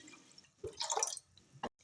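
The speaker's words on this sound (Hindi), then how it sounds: "यहाँ पे 3 गिलास पानी डालेंगे" Brief, uneven splashes of water being poured into a pressure cooker for a shalgam dish, with a few short bursts and drips separated by quiet gaps.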